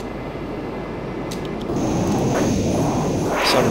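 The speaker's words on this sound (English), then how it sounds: "Some jet's making a bunch of noise." A jet engine in a Majestic Q400 flight simulator rises into a steady broadband roar that grows louder halfway through, with a faint high whine and brief clicks in the cockpit.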